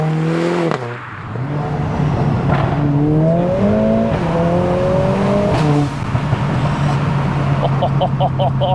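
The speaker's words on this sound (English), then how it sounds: "You've got the exhaust noise, you've got the emotion from the car now in the way that it sounds, and you've also got the induction noise" A 500 bhp Mercedes A45S AMG revs up and down in rising and falling sweeps, its exhaust note and induction roar heard close and loud, with a sharp lift-off and crackle near the end.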